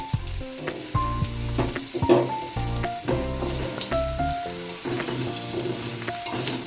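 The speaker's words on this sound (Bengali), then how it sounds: "এরপর আলুটা দিয়ে আলুটা ভেজে নিচ্ছি" Diced potato frying in hot mustard oil with five-spice tempering, a steady crackling sizzle running beneath louder background music.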